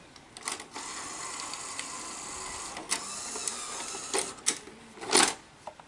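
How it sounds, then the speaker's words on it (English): A Sony SL-2300 Betamax tape deck is stopped and ejects, with a mechanical whirring motor, then a series of clicks and clunks as the mechanism releases, close and fairly quiet, with no talk. "If we hit stop, let's just see if it'll eject."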